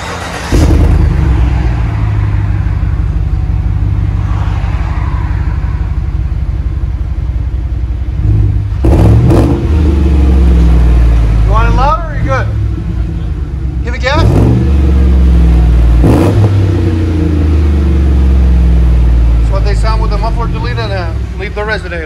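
A Chevy Tahoe with a 5.3L V8 and a muffler-delete exhaust revs loudly and close by, deep rumbling idle rising into several sharp throttle blips, with people talking over it.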